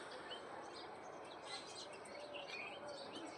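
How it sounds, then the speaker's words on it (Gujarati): Sparrows pecking grain on a village morning chirp faintly and keep chirping, scattered tweets sounding over a steady hiss of background noise. "ચકલા જો ચણ ચણવા આવી ગયા છે"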